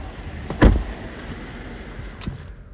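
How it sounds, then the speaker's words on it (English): A car's power window motor runs briefly from the driver's seat, a short close whir with a soft thump, then quiet cabin sounds and a faint click. "power windows, power locks,"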